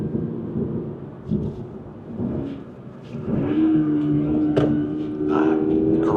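A 2025 Toyota GR86 Hakone Edition driving a bumpy, curvy road, its engine note rising in pitch as it accelerates over a low rumble of tyre and road noise, with thumps from bumps.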